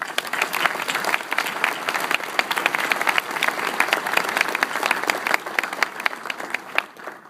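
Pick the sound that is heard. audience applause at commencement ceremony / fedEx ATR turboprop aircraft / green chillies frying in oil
audience applause at commencement ceremony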